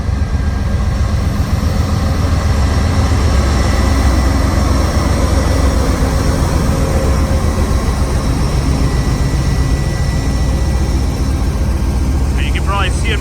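An Amtrak train led by engine 100 and hauling Amfleet cars passes nearby, a loud continuous rumble and roar of wheels and engine throughout, with a faint whistle-like tone near the end.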